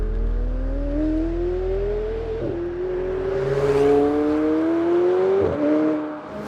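A 530 kW McLaren sports car accelerating hard down a drag strip, its loud, close engine note climbing steadily in pitch with two quick gear-shift dips before rising again.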